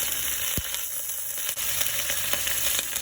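Ginger paste sizzles in hot ghee with red chilies and asafoetida, a steady bright frying hiss with a couple of sharp spatters, close and continuous with no talk.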